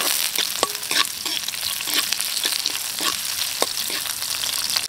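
Onions fry in a pan with a steady, close sizzle, broken by clicks and scrapes from stirring at an uneven rhythm.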